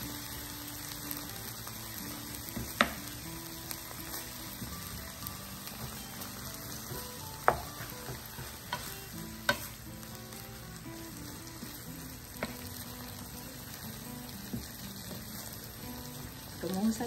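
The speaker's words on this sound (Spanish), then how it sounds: "Vamos a mezclar bien." Tuna stir-fry with red quinoa and vegetables being stirred in a pan: a soft, continuous sizzle with sparse light clicks of the utensil against the pan.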